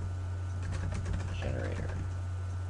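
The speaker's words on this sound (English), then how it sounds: "we will type CFG" Keys clatter on a computer keyboard in a quick, uneven run while typing into a Visual Basic 2010 project, close to the mic over a steady low electrical hum.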